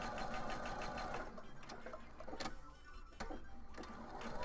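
A sewing machine runs white thread around a fabric screen piece for a Nintendo-themed craft, a quiet steady rapid stitching patter with a few sharper ticks and clicks along the way.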